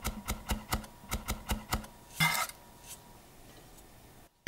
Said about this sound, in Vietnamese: Hai củ hành này thì mình sẽ băm nhỏ ra.